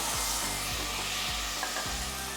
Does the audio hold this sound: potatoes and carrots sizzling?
yes